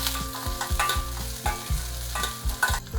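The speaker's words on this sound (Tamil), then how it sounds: "இப்போ இதே எண்ணெயில் இந்த பூண்டு, சின்ன வெங்காயம், இது 2ஐயும் நல்லா வதக்கிடலாம்" Garlic and small shallots frying in oil in a pan for gongura thokku, a steady close sizzle broken by repeated scraping stirs, with a low mechanical hum underneath and no talking.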